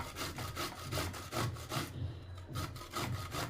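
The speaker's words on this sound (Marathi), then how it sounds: "जाड यायचं आहे, बारीक नका घेऊ, जाड घ्यायचं. छान असं किसून घेते." A ridge gourd is coarsely grated in a home kitchen with steady back-and-forth strokes. Each stroke makes a rhythmic, close, scratchy rasp, with a short pause partway through.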